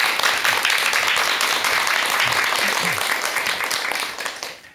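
A lecture audience greets a speaker with loud, dense applause that stays full and steady before tapering off at the end, with a faint voice briefly audible beneath it.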